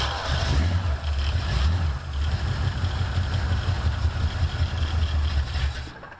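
A Chevrolet C10 squarebody pickup's 350 V8 running with no choke hooked up, a close, low rumbling idle with uneven pulses and slight surges, alone without talk.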